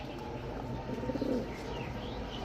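Silver pigeons kept for sale give a soft, low cooing call, fairly faint against a steady background hum.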